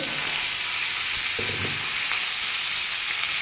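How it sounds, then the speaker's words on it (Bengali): Potatoes and tomatoes frying together in oil with dried chili, a steady loud hiss of sizzling throughout, with brief stirring scrapes of a spatula in the pan partway through. "আলু আর টমেটো একসাথে দিয়ে দেবো দিয়ে বন্ধুরা এটা চাপা দিয়ে দিয়ে ভালো করে লাল লাল করে ভেজে নেবো আমি"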